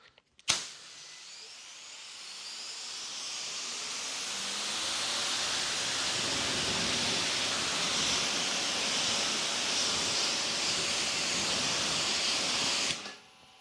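Pressure washer fitted with a 4.0 nozzle, rated near 2 gallons a minute and about 900 PSI, rinsing with a steady, loud broadband water spray hiss that starts abruptly, holds for about twelve seconds, then cuts off.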